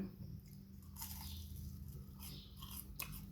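Someone bites and chews a crispy snack close to the mic in a quiet room, giving a few sharp crunches between softer chewing.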